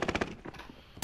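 Bursts of automatic gunfire ring out in Call of Duty: Modern Warfare, a quick rhythmic string of close shots, a short lull with scattered fainter reports, then another loud crack at the end.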